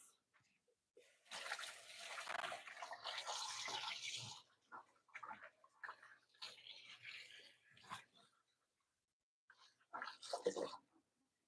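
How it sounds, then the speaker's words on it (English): Hands rinsed under running water at a kitchen sink during bacon prep, a steady close splash for a couple of seconds, then shorter bursts and a brief final spurt after quiet gaps. "Let me give my hands a quick rinse."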